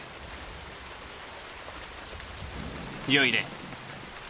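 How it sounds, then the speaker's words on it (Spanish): Steady rain falls in a constant soft hiss, and someone speaks a few words briefly near the end. "Esta lluvia podría sernos de gran ayuda"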